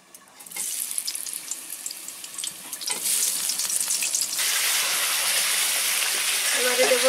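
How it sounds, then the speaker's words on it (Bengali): Raw jackfruit pieces fry in hot oil in a home kitchen, a loud steady sizzle that swells partway through and holds, with occasional stirring scrapes and clinks. "এবারে এঁচড়টা আমি একটু ভেজে নেব"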